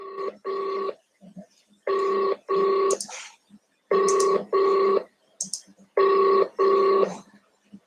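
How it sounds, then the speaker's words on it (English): Telephone rings in regular paired electronic bursts, four double rings with short gaps between, close and clear, with a few faint sounds in the pauses. "It's ringing."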